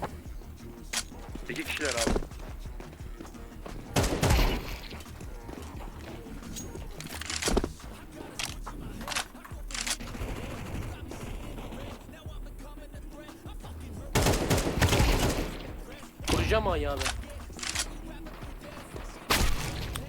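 Counter-Strike 2 match gunfire: scattered bursts and single shots with sharp booms spread across the stretch, mixed under frequent excited gamer chatter and laughter.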